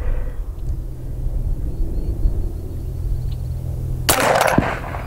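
A 350 Legend rifle fires one sharp report near the end, loud and close, following several seconds of low outdoor rumble with no voices.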